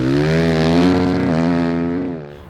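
A 2020 Husqvarna FS 450 supermoto engine with a K&N air filter holds a loud, steady, buzzing high rev, then eases off toward the end, with no voices over it.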